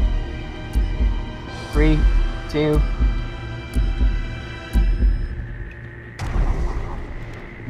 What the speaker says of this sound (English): I know you're somewhere around here because I hear the heartbeat